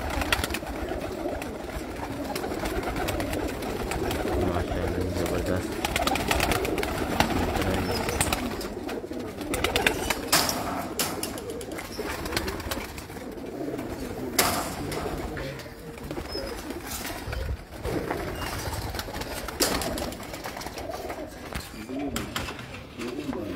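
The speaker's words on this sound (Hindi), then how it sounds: "अभी हमारे पास सौ से ऊपर कबूतर लगे हुए हैं" Over a hundred pigeons coo steadily in a dense, continuous chorus on a rooftop in Hafizabad, close by, with some faint voices and rustling mixed in.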